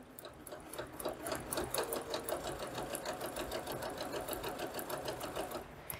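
A sewing machine stitches a seam on a braided table runner, running in a steady fast mechanical rhythm, close and fairly quiet, with no talking.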